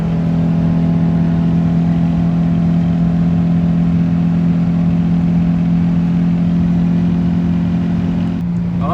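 A 1993 Subaru GC Impreza engine labours uphill in fourth gear with the throttle floored on a Colorado Rockies climb toward 9,500 ft, giving a loud, steady droning hum that holds almost unchanged throughout.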